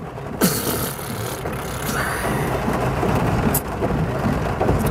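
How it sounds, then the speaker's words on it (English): Hard rain falling in a storm with lightning about, a steady loud broadband wash throughout, with a sharp crack near the start and a low rumble or idling engine underneath. "It's raining hard."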